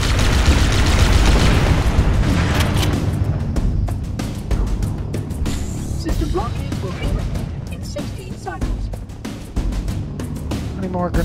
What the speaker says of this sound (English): That should be enough to trigger a wildcat explosion of the engines.